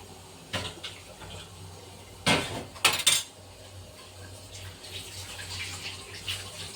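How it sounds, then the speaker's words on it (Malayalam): A spoon or ladle stirs boiling sambar in a cooking pot, making a few sharp metallic clanks and scrapes over a soft, steady bubbling hiss, fairly close and otherwise quiet. "നന്നായിട്ട് ഇളക്കി കൊടുക്കാം. നന്നായിട്ട് തിളക്കട്ടെ."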